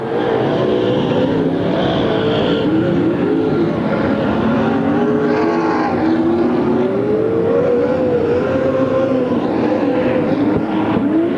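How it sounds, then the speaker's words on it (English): Stock cars racing at Pearsonville, California, during a Turkey Classic race, a loud continuous roar of engines with rising and falling pitch as cars accelerate through the turns. "Bird working underneath of Larry Blake in the number 6 car"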